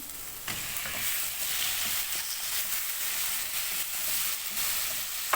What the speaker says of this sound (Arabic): مش تحمير ولا حاجه، تشويح بس